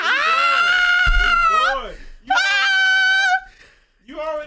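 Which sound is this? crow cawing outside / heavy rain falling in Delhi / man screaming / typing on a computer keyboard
man screaming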